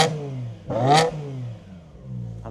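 An ethanol-fuelled car engine is revved hard, its pitch sweeping up to a sharp peak and falling away, then climbing again at the end, loud and close with no talk.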